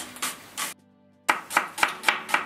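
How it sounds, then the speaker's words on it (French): A knife chopping an onion finely on a cutting board: two strokes, a short pause, then five quick, evenly spaced crisp chops, close and clear with no talk. "Voilà l'oignon, je vais le couper assez fin."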